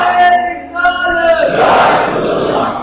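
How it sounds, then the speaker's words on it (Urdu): A large gathering at a religious sermon roars back in unison to a slogan, a loud, sustained crowd shout that swells after a leading voice calls out. "جنہوں نے نعرے کا جواب دیا"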